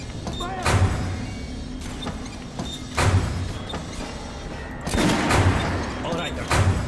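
A volley of gunfire in Metro Last Light Redux, loud booming shots in several bursts spaced a couple of seconds apart, with echoing reverberation between them.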